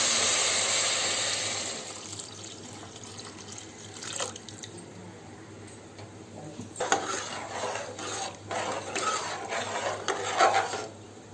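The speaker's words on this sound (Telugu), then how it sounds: "అందులో నీళ్ళు పోసుకోవాలి." Water rushes loudly into a biryani pot for a couple of seconds, fading into quieter scraping and stirring sounds with occasional knocks.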